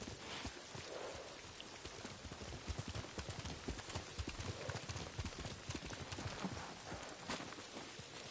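A horse gallops in Ghost of Tsushima, quiet rapid hoofbeats drumming steadily under a constant wash of rain-like noise, with no voices present.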